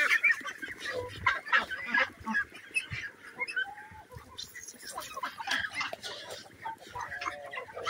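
Backyard chickens kept as layers cluck and squawk close by, with goose-like honks mixed in, a busy irregular flock chatter running throughout with no speech.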